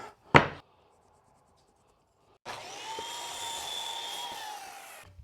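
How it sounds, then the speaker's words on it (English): A wooden board being cut to an 8-inch length for a simple beach chair build, a short scrape followed after a pause by a steady power-saw whine running a few seconds, moderately close. "we'll cut our 8-inch one off of this."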